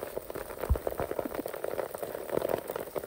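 Heavy rain patters densely on surfaces during mushroom foraging outdoors, a close, continuous crackling hiss of drops throughout, with no talking.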